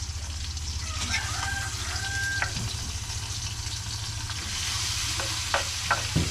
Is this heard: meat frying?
yes